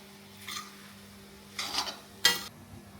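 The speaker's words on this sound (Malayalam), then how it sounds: "അതും കൂടി ഇട്ടിട്ട് ഒന്നും കൂടി വഴറ്റിക്കാം" Onions and masala sautéing in a pan for a soy protein roast, with three distinct bursts of spatula stirring and scraping over a faint low sizzle, close and without talk.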